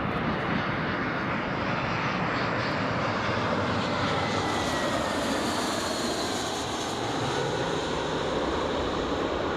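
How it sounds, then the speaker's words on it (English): A British Airways airliner coming in to land at Newcastle airport, a loud, continuous broadband jet engine roar that swells and stays steady, heard from nearby outdoors with no talking. "British Airways is just coming in now, folks."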